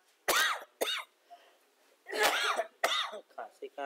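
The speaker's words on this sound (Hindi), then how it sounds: "खांसी कहाँ से आने लगी बस" Several harsh, separate coughs burst out during a Hindi law lecture, loud and close, with brief pauses between them.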